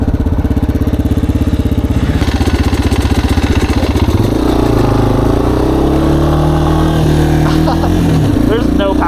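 A dirt bike engine chugs and putters with a steady low throb, then revs up into a higher, smoother drone; it stays loud and close throughout while a rider talks over it.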